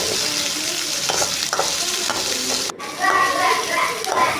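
Chopped onion and green chili sauté in a pan for a homemade pasta, a continuous sizzle with scraping stir strokes, while children's voices chatter nearby in the background.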